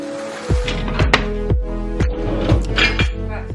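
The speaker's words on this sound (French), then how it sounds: "Je vais vider le lave-vaisselle, ranger la vaisselle qui est à ranger" Dishes, pots and pans clatter and clink as a dishwasher is emptied and the tableware put away, with sharp impacts landing roughly every half second, close by and fairly loud, no talking.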